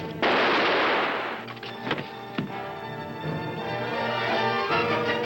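A gunshot rings out in a 1959 TV crime drama, one loud sharp crack followed by a long fading echo, with a few smaller knocks and a steady hum afterward and no talking.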